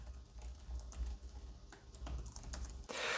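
Typing on the keyboard of an MSI GS66 Stealth laptop, with soft, shallow key presses in an irregular run over a low hum, close and quiet, no talking.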